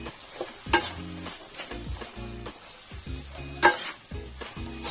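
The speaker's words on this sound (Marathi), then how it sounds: "मिक्स करते चांगलं।" Vegetables for pulao stirred in a pot, repeated scraping spoon strokes over a low sizzle, with two sharp metallic clinks against the rim.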